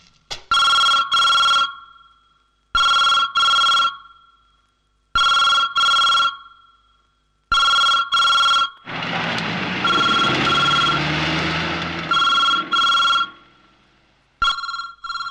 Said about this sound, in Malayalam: ഫോൺ റിങ് ചെയ്യുന്നുണ്ടല്ലോ.